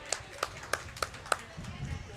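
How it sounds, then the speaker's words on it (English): Audience members at a county fair dairy goat show clap to vote for a goat: about five sharp, separate claps at a steady pace, followed by low murmuring voices. "Can I get a round of applause?"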